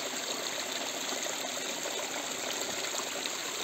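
Cold mountain water rushes and splashes around Haix boots on a mountain stream, a dense, continuous gushing that stays close and loud throughout, with no voices.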